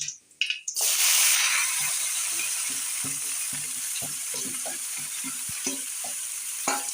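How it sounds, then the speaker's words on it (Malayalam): Okra, tomato, onion, ginger, garlic and green chillies hit hot coconut oil in a pan with a loud sizzle that settles into steady frying, with scraping stirs and small clinks over the crackle. "വെണ്ടക്ക തക്കാളി ഉള്ളി മല്ലിയില ഇഞ്ചി വെളുത്തുള്ളി പച്ചമുളക് ഒന്നായിട്ട് ചട്ടിയിലേക്ക് ഇടാം"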